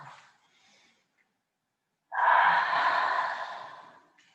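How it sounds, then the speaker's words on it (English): A long, deep exhale through the mouth during a hatha yoga class, a breathy rush that swells and slowly fades, following a brief softer breath and a pause of near silence. "Deep out breath through the mouth."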